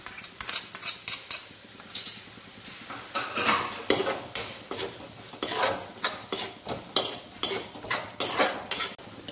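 Ginger, garlic and chili paste frying in masala for fish kalia, with a soft sizzle under repeated scraping stirs of a utensil against the pan in an uneven rhythm.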